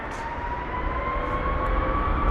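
An American Airlines Boeing 777-200ER, 24 years old, taking off from London Heathrow, its jet engines giving a steady, building roar with a sustained whine that grows slightly louder over the short stretch, heard from a distance with no talking.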